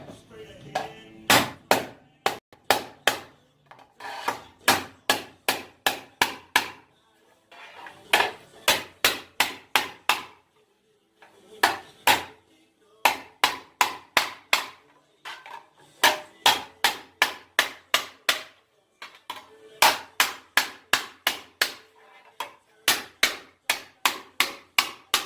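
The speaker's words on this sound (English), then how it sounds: "we'll make some tucks and hammer something out real quick" A hammer strikes sheet metal on a shrinking stump to form tucks, in rapid bursts of sharp, ringing blows separated by short pauses, close and loud throughout.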